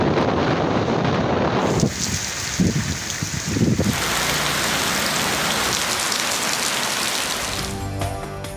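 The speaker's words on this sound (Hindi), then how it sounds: "पंजाब में तेज बारिशें" Heavy rain pours steadily in Punjab, a dense continuous hiss of rainfall with wind buffeting the microphone, loud and unbroken from start to finish.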